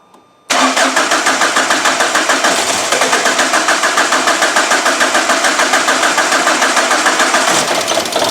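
A Ford Transit Connect 1.8L Duratorq TDCi diesel engine cranks and catches after a short silence, then settles into a loud, steady, close-up idle with a regular rhythmic clatter that continues to the end.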